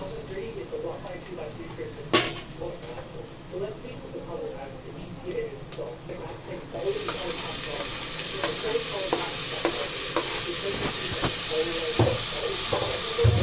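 Chicken curry base frying in a pan as tomatoes go in, stirring scrapes over sizzling that turns into a louder, steady hiss partway through, with a voice talking over it.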